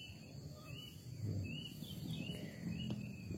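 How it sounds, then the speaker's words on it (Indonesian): Kedasi cuckoo calling in forest on Gunung Lulumpang, repeated high whistled notes at moderate distance over a bed of insect buzz and faint rustling. "Suara kedasinya itu mantap tuh."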